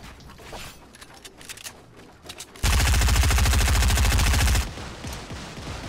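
Rapid automatic gunfire in the mobile game Fortnite, a loud dense burst of about two seconds standing out sharply against quieter game background noise.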